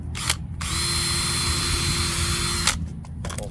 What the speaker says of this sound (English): So we're gonna drill,